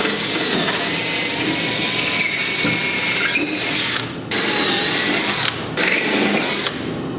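A power drill bores holes for mounting lithium batteries in a Cushman vehicle conversion, a loud continuous grinding whir close by that cuts off briefly several times between holes.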